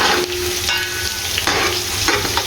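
Whole spices, cloves and black peppercorns, fry with onions for chicken pulao, a loud close sizzle with repeated scraping strokes of a spoon stirring the pot.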